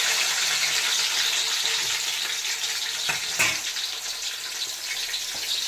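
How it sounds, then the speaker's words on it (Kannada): Capsicum frying in oil in a large pan gives a loud, continuous, close sizzle with a couple of brief clatters partway through and no talking. "ಇವಾಗ ಮೆಣಸಿಕಾಯಿ ಹಾಕೋತಾ ಇದ್ದೀವಿ."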